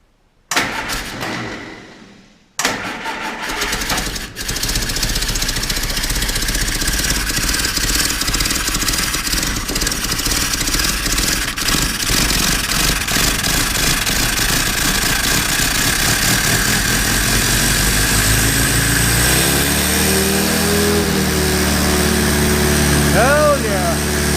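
A Ford GPW jeep engine cranks and catches after a few stuttering tries, then settles into a loud, close, steady idle whose pitch shifts slightly as the carburetor choke is adjusted, with voices speaking over it.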